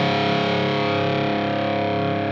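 A heavily distorted electric guitar tone from a NUX Solid Studio Mk II amp modeller's Grunge 59 plexi model rings out loud and sustained, thick and saturated with a crunchy, vintage-amp character and no voices.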